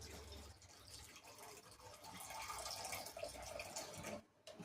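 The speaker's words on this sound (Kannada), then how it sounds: "ಇನ್ನೊಂದು ಸ್ವಲ್ಪ ನೀರು ಹಾಕ್ತೀನಿ" Water poured into a pan of chicken keema, a steady broadband splashing and trickling that runs close and fairly loud for several seconds before cutting off near the end.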